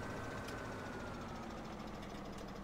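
A John Deere 6410 tractor engine in the video game Farming Simulator 17, running as a steady, even mid-pitched drone with a faint knocking texture, fairly quiet and without speech.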